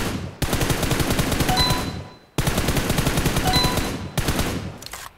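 Loud, close automatic gunfire in PUBG Mobile, fired at practice targets in three sustained rapid bursts with short gaps between them.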